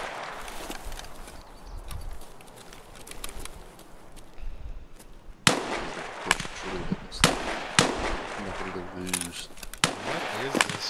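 Gunfire on the Woods map of the video game Escape from Tarkov cracks out as several sharp shots, distant at first and then louder and closer in irregular bursts, while players talk over the exchange.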